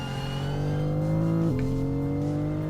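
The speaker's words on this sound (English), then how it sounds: "whenever I turn and let go of the accelerator, it sounds like a jet engine failing" A Cadillac in a driving video game gives off a steady, loud engine whine that dips sharply in pitch partway through as the accelerator is released, heard alone without talk.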